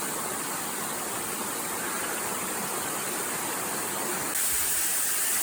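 A steady, rushing waterfall roars continuously on a hiking trail, a dense wash of falling water heard up close with no other sounds, growing slightly louder near the end.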